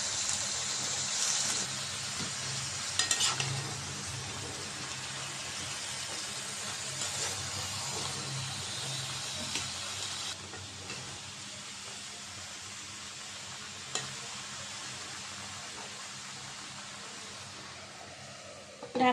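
Flat beans and tomatoes stir-fried in spices in a pan, a steady hissing sizzle across the whole stretch with faint scraping, fairly even in level and easing slightly toward the end, with no talk.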